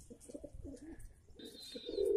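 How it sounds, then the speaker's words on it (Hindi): Soft pigeon cooing comes in short, throaty bursts, with a few faint chirps and rustling as the pigeons feed on gulab jamun nearby. "ये देखिए कुछ कबूतर खाते हुए"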